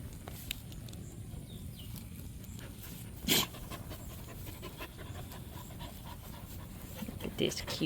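A Maremma and Pyrenees mix puppy pants faintly in quick, steady breaths, close by, with a few soft rustles.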